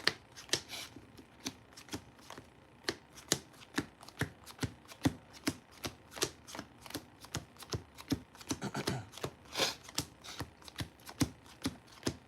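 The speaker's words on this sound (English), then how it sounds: "I'm going to power shuffle this" A deck of Yu-Gi-Oh trading cards is power shuffled by hand, giving a steady run of sharp, close riffling snaps in a quick, slightly uneven rhythm that thickens into a denser flurry near the end, with no talking.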